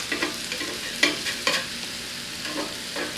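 Extra virgin olive oil warms in a hot skillet while being stirred, giving a soft, steady sizzle broken by a few scraping knocks, close and fairly quiet, with no voices.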